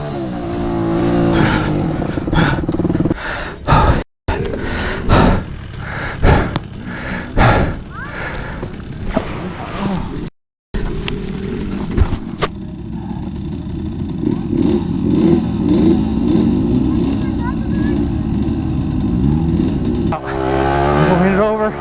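Motocross dirt bike ridden hard on a rocky canyon vet track, engine loud and close, revving and droning almost without pause, with two brief cut-outs and a rider talking over it at times.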